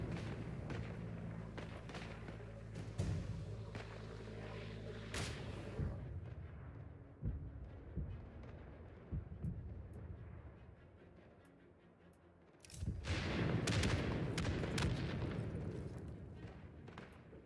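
An artillery barrage in the World War I shooter Isonzo thunders with repeated booms and thuds, quieter isolated impacts in the middle, then a heavy, dense volley near the end, with occasional speech mixed in.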